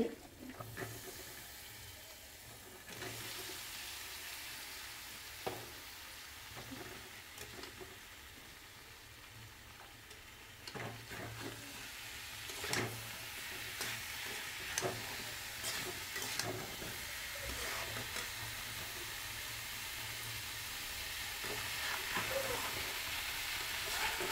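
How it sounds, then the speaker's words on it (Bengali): Vegetable curry goes into a hot pan in a Bengali home kitchen, giving a soft, sustained sizzle with occasional utensil taps and stirring that swells slightly toward the end. "এই যে তরকারিটা দিয়ে দিচ্ছি।"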